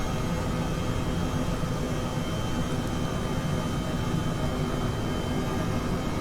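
A simulated EC135 helicopter in the X-Plane 12 or MSFS 2020 flight simulator produces a steady, even turbine and rotor roar, a constant broadband hum with no breaks or changes in level throughout.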